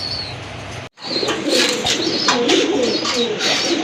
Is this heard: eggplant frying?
no